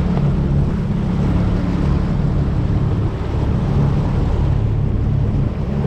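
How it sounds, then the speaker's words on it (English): Strong wind roars steadily across a sailboat under way in choppy open water off the Florida coast, a loud, continuous, close rush with low buffeting and no speech. "Wind's blowing pretty good."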